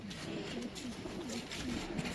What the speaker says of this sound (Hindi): मैं ये दिखा दूँ कबूतर रियल में